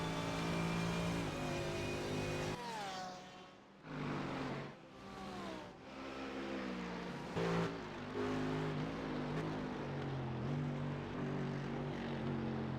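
Several race car engines in a racing video game roar steadily together, pitch rising and falling through gear changes, with brief dips in loudness and no talk.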